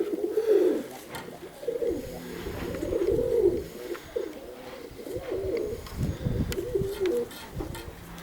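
Pigeons coo in steady low rolling calls, close and continuous, with wing flutters and rustling as birds settle outdoors on a windy March day.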